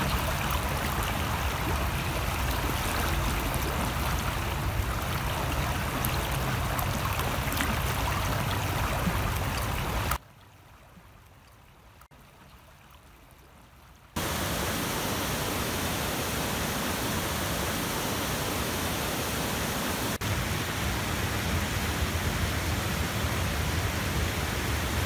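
Steady water flowing in open channels, a continuous broadband rush like a stream or small waterfall, loud and unbroken except for a few seconds where it drops out to near silence before resuming.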